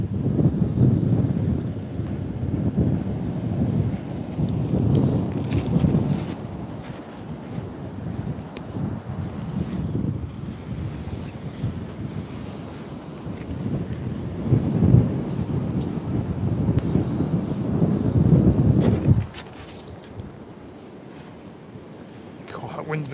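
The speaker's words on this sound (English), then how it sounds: "Wind's becoming nasty, it's cold." Strong gusting wind of around 40 mph buffets the microphone on a shore-angling beach at Trimingham, a loud low rumbling roar that surges and eases in waves before dropping off near the end.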